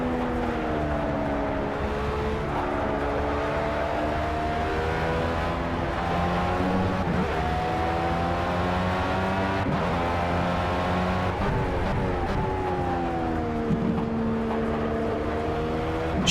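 A Formula B race car engine at Spa in Project CARS, from a helmet-cam view, drones loud and close, its pitch climbing and dropping again and again through gear shifts as the car accelerates and brakes.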